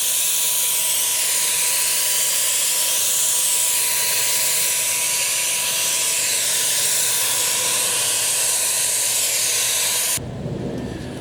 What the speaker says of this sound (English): The flex spray seems to be doing a really good job. It's not the fastest sprayer in the world, but no HVLP is.